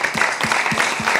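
Audience applause at an evening talk on fixing the planet, a dense clatter of clapping with a rhythmic lower thump recurring about every quarter second, fairly loud and close throughout the short burst.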